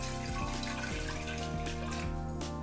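Water pours steadily into a fermenter to prime it, a continuous close rushing stream under faint background hum.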